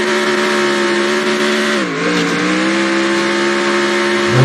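A race car in NR2003 holds a loud, steady, sustained engine drone during a burnout at New Hampshire, with the pitch dipping briefly and then recovering; no talking.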